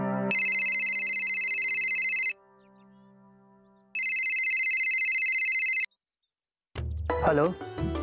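A telephone rings for an incoming call in a Hindi TV comedy scene, two loud electronic ring bursts with a pause between, then a voice answers near the end.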